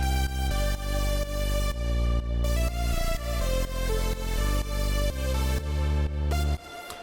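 A deep sawtooth bass synth from Ableton's Wavetable, pitched down an octave with its filter shaped, pulses in sustained rhythmic notes within an electronic dance remake, loud and steady before cutting off near the end.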